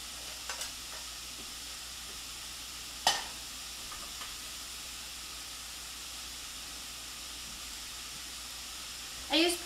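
Italian sausage sizzles steadily on medium heat in a pan, a constant soft hiss with a sharp clink near the start and a louder clatter at the very end.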